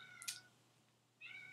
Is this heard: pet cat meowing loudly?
yes